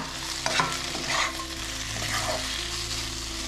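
Paneer cubes for restaurant-style chilli paneer sizzle in a pan while being stirred, a dense continuous frying hiss with a few soft scraping strokes near the start, close and steady.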